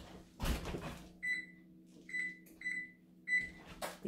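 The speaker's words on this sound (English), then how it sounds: "So I'm going to stick it in the oven now" An oven door or cupboard clunks open in a home kitchen as homemade Passover bagels go in, followed by a short series of electronic beeps from the oven being set, quiet and close.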